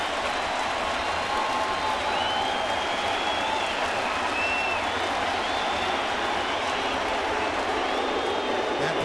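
A crowd of over 40,000 at a Yankee Stadium baseball game between Chicago and New York stands and applauds, a continuous wash of clapping and cheering, distant and steady, with a commentator talking over it.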